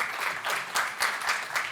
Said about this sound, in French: On peut également applaudir.